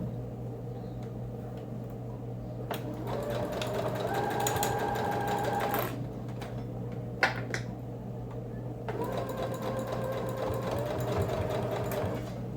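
A sewing machine stitches a cuff onto a fleece fabric slipper, a steady mechanical whir running in bursts with short pauses and a few clicks, close and alone without talk.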